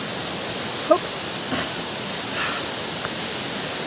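Steady, broad rushing roar of Engkanto Falls in Libmanan, a constant wash of falling water with faint brief voices in the background.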